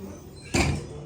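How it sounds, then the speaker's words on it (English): A Montgomery elevator door at San Diego International Airport slides shut with a single broad rushing thud midway, close and fairly loud against a quiet hum. "Door close works."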